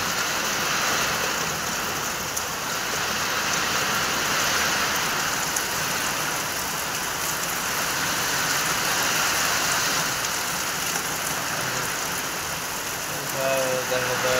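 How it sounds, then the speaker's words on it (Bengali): Heavy rain pours down steadily outdoors during a downpour, a dense, continuous loud hiss that holds evenly throughout with no voices. "দেখো দেখো কি হারে জল পড়ছে"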